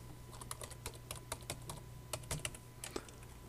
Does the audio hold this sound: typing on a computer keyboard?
yes